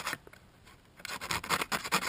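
Sandpaper is rubbed briskly over the electrodes of a carbon-fouled spark plug, a close, dry rasping in quick back-and-forth strokes that starts faint and grows louder in the second half.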